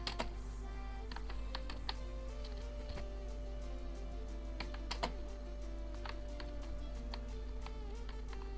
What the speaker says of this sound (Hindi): यहाँ पे मैं अपनी कंपनी का नाम या अपने चैनल का नाम लिखता हूँ, टाइप करता हूँ।